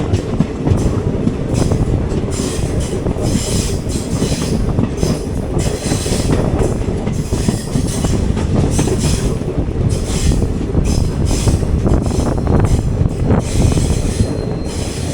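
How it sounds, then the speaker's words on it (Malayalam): The Chennai Palakkad Superfast rolls into Pollachi Junction station with a continuous loud rumble of wagons, rhythmic wheel clatter and intermittent squealing of wheels on rails, heard close from aboard. "അപ്പം അങ്ങനെ നമ്മൾ പൊള്ളാച്ചി ജംഗ്ഷൻ സ്റ്റേഷനിലേക്ക് കയറുകയാണ്"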